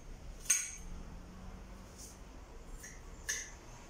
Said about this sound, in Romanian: Priviți ceapa să tai.